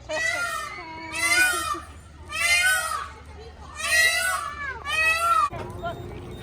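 A goat at a zoo gives four or five loud, wavering bleats in quick succession, each about half a second long, close by with children's voices in the background.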